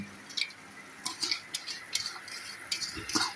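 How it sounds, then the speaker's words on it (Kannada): Moong dal added to half-cooked cabbage and stirred in a pan: quiet, scattered scrapes and clinks of a metal spoon against the pan over a faint sizzle, with no speech. "ಇವಾಗ ನಾನು ಈ ಹೆಸರುಬೇಳೆ ಇದೆಯಲ್ಲ, ಇದನ್ನು ಹಾಕ್ತಾ ಇದ್ದೇನೆ."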